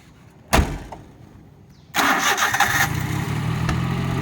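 A Daihatsu Hijet S60P kei truck, set up in an off-road style, cranks briefly with a door-like clunk before it, then fires on the first try and settles into a steady, fairly quiet idle, close by with no talking.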